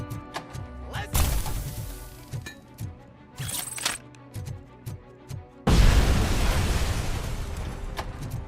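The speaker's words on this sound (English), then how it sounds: "Why are they exploding?" Enemies blowing apart in Robocop Rogue City: sharp thwacks and metallic clinks repeat through a steady beat of combat, then a large, loud explosion bursts and roars on, slowly fading at the end.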